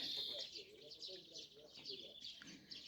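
Sparrows chirp in short, high, repeated tweets, faint and somewhat distant, with a little background murmur beneath.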